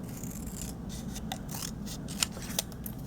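Scissors snip through greeting card scraps at close range, a soft continuous rasp of blades with a few sharper clicks near the end, quiet and without talk.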